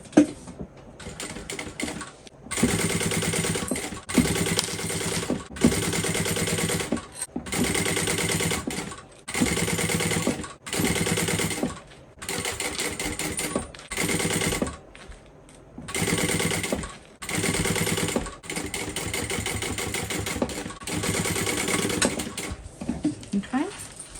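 A sewing machine bastes a seam on a bowler bag at an eighth-inch seam allowance, running in close, steady bursts of rapid stitching that stop and restart over and over.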